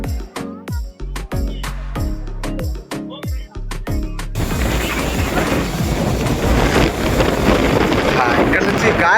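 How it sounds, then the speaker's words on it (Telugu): Strong wind roars across a hilltop fort, loud and buffeting against the microphone in a continuous rush, after an opening of sharp rhythmic knocks and thumps. "ఇక్కడ నుంచి గాలి చూడండి ఎంత వేగంగా దొరుకుతుందండి"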